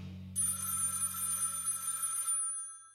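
A telephone bell rings in a bright, sustained trill for about two seconds over a low hum, then cuts off and fades to silence.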